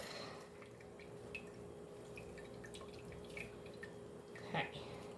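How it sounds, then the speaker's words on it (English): Buttermilk drips and trickles softly as butter is squeezed in cheesecloth, faint and close, with a brief louder splash near the end. "Give this a squeeze. You want to squeeze all that buttermilk out."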